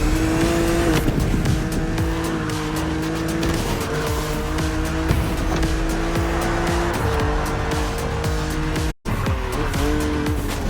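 A BMW Z roadster races in The Crew Motorfest, its engine droning loudly through gear changes while tires squeal and skid on corners. The sound runs continuously, with a brief dropout near the end.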